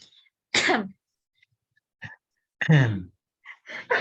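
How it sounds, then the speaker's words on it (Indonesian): A few sharp coughs, one strong burst followed by shorter ones, close by in an otherwise quiet room. "Batuk"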